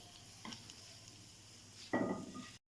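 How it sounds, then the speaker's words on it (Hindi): Sprite-roasted chicken is served out of a pan with a utensil. Faint scraping and stirring touches are followed by one short, louder scrape near the end, all quiet and close. "अब मैं यहाँ पे डिश आउट कर दूँगी"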